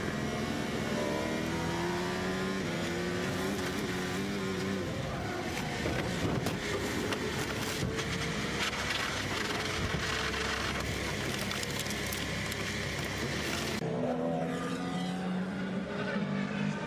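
A Formula 1 car driven by Pastor Maldonado runs loud and steady through turn 12 on a partly damp track, its engine note rising and falling continuously with a sharp change near the end.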